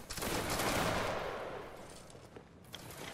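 A line of muskets fires a volley in a Bavaria versus Prussia line-battle game. The crackling burst of shots rolls into a dense, decaying rumble, followed by a few scattered distant reports.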